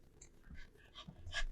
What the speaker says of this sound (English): Our doggo is borking at us.